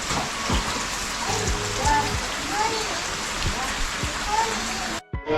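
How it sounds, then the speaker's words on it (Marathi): Rain falls outdoors in the Konkan countryside, a steady hiss of drops on surfaces, with people talking and calling over it before a brief cut near the end. "पाऊस पण पडतो जरा"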